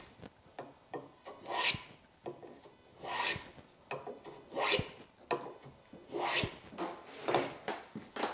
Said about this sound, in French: Donc je vais le réduire simplement au rabot.